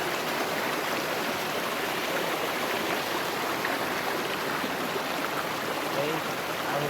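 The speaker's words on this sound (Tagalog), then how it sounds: "Tubig." Steady, rushing water from a flowing stream with slippery banks, continuous and fairly close, with no pauses or other sounds standing out.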